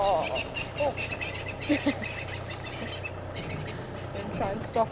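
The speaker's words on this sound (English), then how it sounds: "Try and stop and show you the Natal francolin, who's making a lot of noise with its little family there" Natal francolins calling as a family group during an evening safari drive, harsh cackling bursts scattered across a constant vehicle engine rumble, moderately distant, with a voice speaking faintly underneath.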